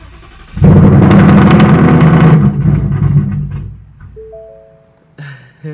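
A car engine started by hand with the key after the remote start failed, cranking and catching into a loud steady idle that gradually settles, followed by a few faint tones and clicks.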